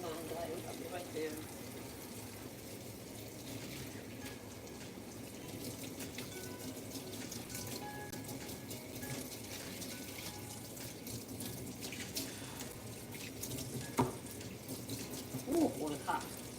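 Water runs from a kitchen sink tap during dinner prep, a faint steady trickle and splash in the basin under quiet household noise, with a few clinks and knocks of dishes near the end.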